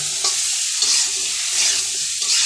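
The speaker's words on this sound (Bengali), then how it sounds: "তরকারি ডাউন করে রান্না করতেছি।" Bitter gourd and potato curry with shing fish cooks in a pan, giving a loud, continuous close-up sizzle broken by rhythmic stirring strokes, with no talking.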